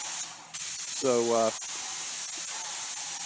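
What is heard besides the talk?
Graco 695 Ultimate Max 2 airless paint sprayer spraying ceiling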